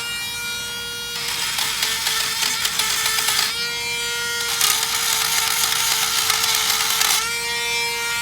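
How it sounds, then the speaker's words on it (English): A Dremel rotary tool with a rust-remover tip cleans a brake bracket on a 2007-2016 GMC Acadia, Chevy Traverse or Buick Enclave, running at a steady idle whine that rises into two long, loud bursts of harsh, buzzing grinding. "I like my little Dremel tool with the rust remover tip. And I'm gonna clean off where those go first."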